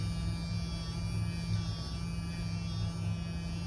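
A facial skin toning device pressed against skin gives a steady, close electric hum with a faint buzzing edge, constant and unbroken throughout, with no talking.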